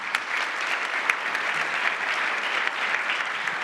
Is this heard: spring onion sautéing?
no